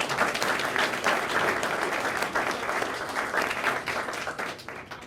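Full room of conference attendees at a PyConZA 2013 talk clapping for the speaker, dense, loud applause sustained throughout the whole stretch.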